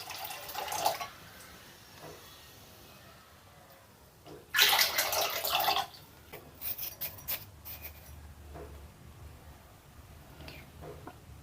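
Water being poured into a pot to make manda pitha dough, a loud rushing splash for about a second and a half, with light clinks and trickles after it and quiet room noise before.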